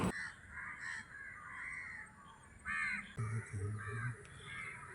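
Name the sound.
crows cawing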